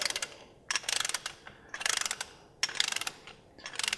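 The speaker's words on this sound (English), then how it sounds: "our last step before putting the wheel on is to go ahead and get this torqued down to its initial spec" Ratchet wrench torquing a front wheel bearing bolt on a Mk5 Volkswagen GTI, heard as several close, loud bursts of rapid metallic clicking separated by short pauses, with no talking.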